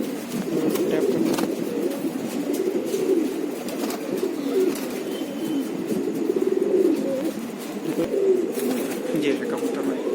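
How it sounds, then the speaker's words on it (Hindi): Khatang pigeons cooing continuously in low, throaty, rolling calls, several birds overlapping, with faint background noise. "ये खतंग कबूतर है"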